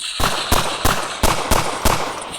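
Six evenly spaced gunshots from the Roblox game Westbound crack out in a steady rhythm about a third of a second apart, loud and close.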